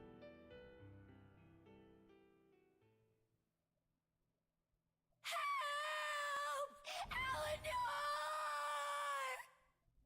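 A girl character in the video game Tales of Berseria screams in pain, a loud, sustained high wail lasting several seconds with a brief catch of breath midway, following a quieter stretch of game music.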